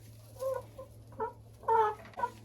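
Hens and roosters being moved into a coop, the roosters held in a sack, give a few short nearby clucks and murmurs over a low steady hum, in separate bursts.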